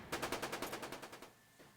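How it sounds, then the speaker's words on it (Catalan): A dramatized burst of pistol and shotgun fire: about a dozen rapid, evenly spaced shots rattle off at moderate distance, then stop, leaving a faint tail. "En Frank i els seus homes segueixen disparant."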